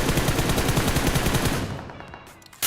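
Rapid automatic gunfire from the mobile shooter BGMI/PUBG Mobile fills the first half as a dense, loud burst of repeated shots, then trails off into quieter echoes before a sudden sharp sound at the end.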